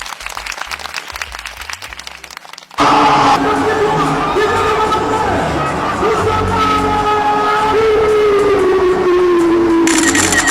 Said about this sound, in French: On applaudit pour lui d'abord.